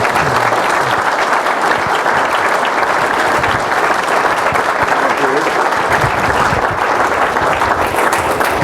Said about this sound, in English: let's all give him a big Thank you. round of applause